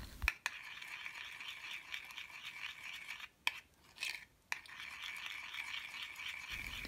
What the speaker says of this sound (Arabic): نخلط الشوكولاتة مع نصف علبة دانت جيدا، ونحصل على نوع من الجناش